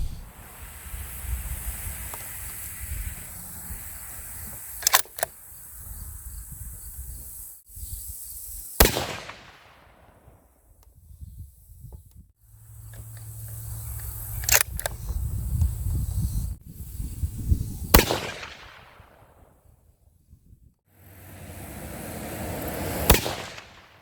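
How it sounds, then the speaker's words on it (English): Sharp, loud rifle shots from a 7mm-08 firing 110 grain Barnes TTSX flat-base bullets outdoors, five distinct cracks spaced several seconds apart with brief echoing decay and wind noise between them. "Next we're going to shoot a 5-shot ladder group with 110 grain Barnes TTSX flat base."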